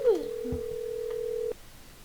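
A mobile phone in the video game Hello Neighbor gives a short electronic tone: a brief descending blip, then a sustained steady beep lasting about a second and a half before cutting off, clear and close.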